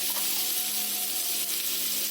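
Butter with onion, chili powder and coriander leaves sautéing for pav bhaji, a loud dense sizzle that hisses steadily throughout with a faint tonal hum beneath.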